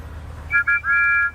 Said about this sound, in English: Thomas and Percy happily tooted their best friend's whistle.